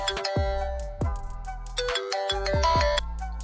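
Custom mobile ringtone built around the owner's own name, playing a bright melodic synth tune with repeated struck-tone notes and a sustained bass, loud and clear with no talk over it.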